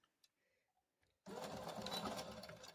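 A home sewing machine stitches fabric for a Christmas teddy bear, starting abruptly after a moment of near silence with a few faint clicks, then running as a loud, steady, close mechanical whirr.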